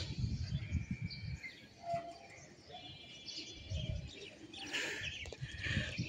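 Racing pigeons released for a short-distance flight in a Bangladeshi neighbourhood, with soft cooing and chirps, scattered wing flutters and a burst of louder bird activity near the end over a steady outdoor background.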